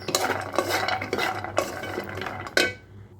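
A metal spatula scrapes and clinks against a pan as almonds are stirred while dry-roasting on a stove, several quick rhythmic scraping strokes close up, ending with a sharper clank and fading rattle.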